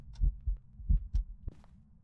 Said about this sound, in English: Every heartbeat for me has been super, super loud.